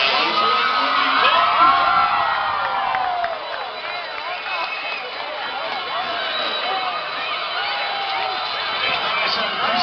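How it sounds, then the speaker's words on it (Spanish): A crowd at a monster truck show in San Juan, Puerto Rico cheers, whoops and claps in a steady, dense roar that swells early and holds at full loudness throughout, with children's shouts mixed in. "que se sientan los aplausos del público"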